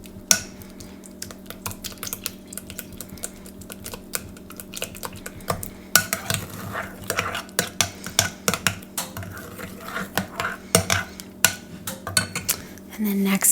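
Banana bread batter is mixed in a bowl, with close, rapid clicking and scraping of a utensil against the bowl that grows busier and louder toward the end, rhythmic and crisp with no talking.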